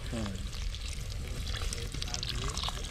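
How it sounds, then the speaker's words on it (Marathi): Water poured into a pot of bombil curry cooking on a wood-fired chulha at the seashore in Vasai, a steady, close hiss and bubbling sizzle that runs unbroken from start to end. "थोडा वॉटर टाकतो म्हणजे ते आणखी उकाळ्याने शिजेल"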